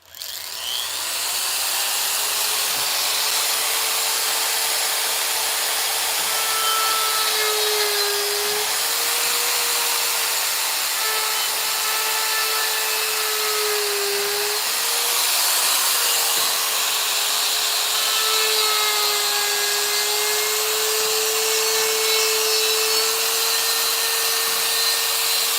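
Power carving wood with cut saw burrs, a continuous whining rotary tool that holds a steady pitch and shifts slightly as it bites, loud and close and alone for the whole stretch.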